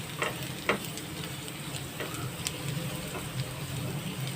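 Steady sizzling of meat being fried and stirred in a pan for menudo, a dense continuous crackle with occasional spatula scrapes and pops, close and moderately loud, with no talking.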